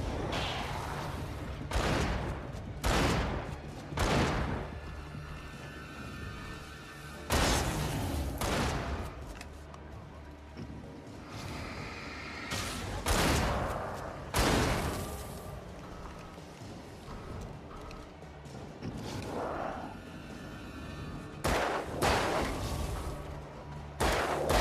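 Shotgun blasts in the video game Alan Wake boom out as a string of loud, separate shots spread unevenly over about twenty-five seconds, with sustained game rumble between them.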